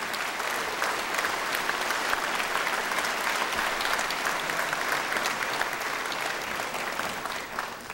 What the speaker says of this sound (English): Let's give our new members a great round of applause, congratulating them on their elections to this great body.